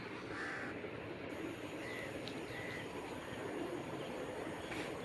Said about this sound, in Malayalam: എന്താ കാക്കേ നിനക്ക് പറയാനുള്ളത്